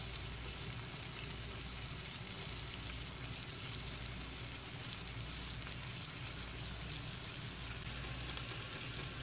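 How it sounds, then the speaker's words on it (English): Steady, dense sizzling and crackling of mahi fish frying in a pan, continuous and fairly soft throughout. "It should be sizzling when you put it on"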